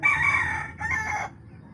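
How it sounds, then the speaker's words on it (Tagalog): A rooster crows loudly in two bursts, a long first call followed by a shorter second one, with faint low background noise throughout. "nitingog na dayon ang mga manok ni Idol Rickmar mga ka-good vibes always."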